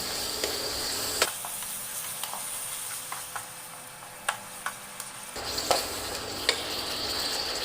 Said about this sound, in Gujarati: ત્યારબાદ આપણે ખાંડ નાખી દઈશું અને એને પણ સારી રીતે મિક્સ કરી લઈશું